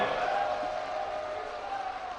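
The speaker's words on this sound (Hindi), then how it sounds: "आइए पुनः हाथ ऊपर करके तालियों के जय घोष से धन्यवाद करें हमारे यशस्वी प्रधानमंत्री महोदय का" A large outdoor crowd at Badrinath Temple applauds and cheers for Prime Minister Narendra Modi, a dense, continuous wash of clapping and voices at fairly even loudness throughout.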